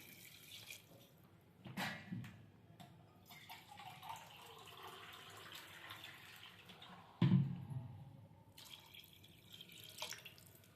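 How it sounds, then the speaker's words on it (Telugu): Water poured from a glass into a pot of chicken pulao, a soft trickling splash with a couple of louder gushes and clinks, fairly quiet and close. "సో నేను 1 గ్లాస్ రైస్ తీసుకుంటాను కాబట్టి 2 గ్లాసెస్ వాటర్ పోసుకుంటాను."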